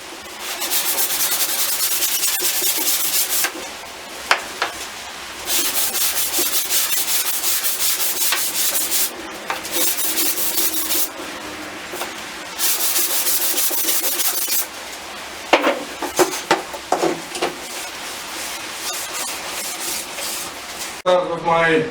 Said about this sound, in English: I'll just use some sanding paper on my tracks